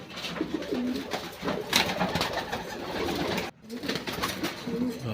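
Long-distance racing pigeons kept on a loft trap, cooing steadily and softly in a continuous chorus, with occasional other bird chirps and a faint voice in the background.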